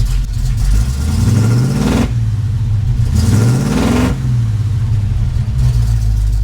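A Pontiac Firebird's engine, running for the first time in over 30 years and leaking transmission fluid, idles loudly and revs up three times in rising sweeps, close and steady with no talking.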